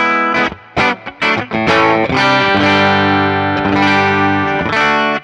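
Electric guitar on a T-style body played through an amp with a 9.5K Grail bridge-pickup bite: a few choppy strums, then sustained, slightly overdriven chords ringing out loud and close.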